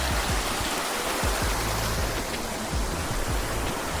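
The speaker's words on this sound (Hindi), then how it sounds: "क्या खूबसूरत सी वाटरफॉल सी आ रही है ऊपर से।" A waterfall pours down from above beside a mountain trail on a hike to Dodipatsar Lake, a steady full rushing roar of water that fills the whole clip, with no voices.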